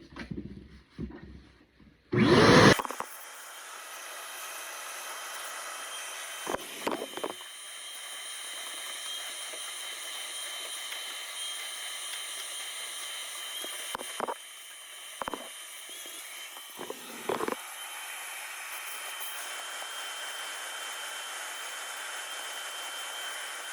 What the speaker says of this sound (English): We're gonna vacuum this out